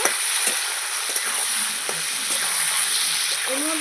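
Mutton pieces fry in a pan while being stirred and tossed, making a continuous close sizzle with scraping and a voice talking over it.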